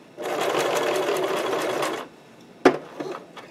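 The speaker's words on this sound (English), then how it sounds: "we're going to sew this the same way we did the collar, pretty much" A sewing machine stitches fabric for a cosplay costume's puffed sleeves in one close, steady two-second run of rapid needle pulses, then stops, followed by a sharp clunk and a few faint handling noises.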